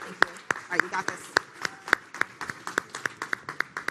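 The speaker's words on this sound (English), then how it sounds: "Everyone give her a round of applause." Audience applause at the BubbleCon 2023 tech conference demo day: a crowd claps in a fairly steady, rhythmic pattern of sharp claps, with voices underneath.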